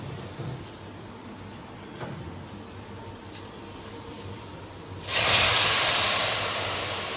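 Water poured onto sugar in a hot pan for laddu bursts into a loud, broad hiss partway through after a quiet background, then steams on and slowly eases.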